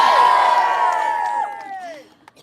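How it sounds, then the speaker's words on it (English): A crowd cheers loudly at Speakers' Corner, an outdoor public speaking gathering, the roar of many voices surging at once and then tapering away over a couple of seconds into quiet. "Can we have a cheer if we'd like to repeal the GRA?"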